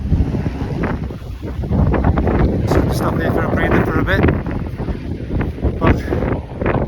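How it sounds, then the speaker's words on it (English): Gusty wind at the top of the Thukla Pass, about 4,800 metres up in the Everest region, roars steadily across the microphone as someone speaks over it. "It's a bit windy, a bit chilly."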